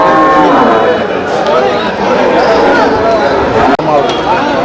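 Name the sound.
dairy cattle at a cattle market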